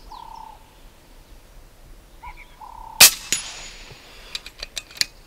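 A single sharp airgun shot cracks out loud and close at a shooting range, followed by a short ringing decay and a few quick distant impact clicks; faint birdsong sits in the background beforehand.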